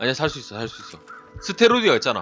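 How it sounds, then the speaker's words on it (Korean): A crow caws in the survival video game The Long Dark, a brief call heard beneath excited talking from a player. "까마귀가 울고 있다고?"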